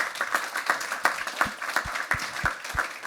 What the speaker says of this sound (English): A little round of applause for our panel here,